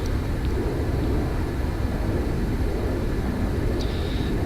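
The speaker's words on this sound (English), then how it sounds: "So basically we need to put the flaps down, and then we need to lift off. So full throttle" An A-143 Buzzard jet in the Arma 3 video game at full throttle on the runway for takeoff, a loud, steady, unbroken engine roar throughout, with no talking.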